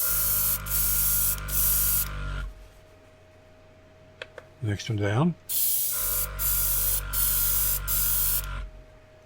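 A Gaahleri Ambition Series airbrush fed by its compressor sprays in loud, close hissing bursts, broken by short gaps. Then comes a quiet pause where a person speaks briefly, followed by more sustained spraying.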